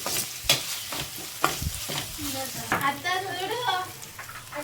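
Ladies finger (okra) curry, North Indian style, fries in a pan with a close, continuous sizzle and repeated stirring knocks, while a voice speaks briefly toward the end.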